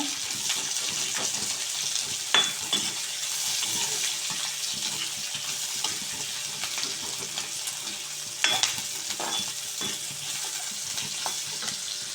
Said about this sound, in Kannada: ಸ್ವಲ್ಪ ಫ್ರೈ ಆಗಬೇಕು ಇದು